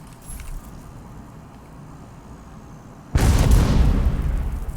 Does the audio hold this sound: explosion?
yes